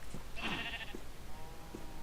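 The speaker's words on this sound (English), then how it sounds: "I finally found a second sheep." A single sheep in the video game Minecraft bleats once, a short wavering cry heard close and clear over a quiet background.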